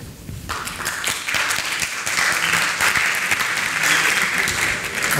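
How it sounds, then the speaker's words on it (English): A conference audience at a game conference in Lisbon gives a full round of applause, dense steady clapping that swells after a brief start and holds loud throughout, with no one talking. "let's have a round of applause if you think the first one was the best one"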